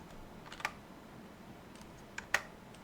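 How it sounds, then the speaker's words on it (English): Computer keyboard typing a command, faint and sparse, with only a few quiet key clicks and a couple of sharper taps in an otherwise quiet room. "Go to your command prompt, type in win-git install Python."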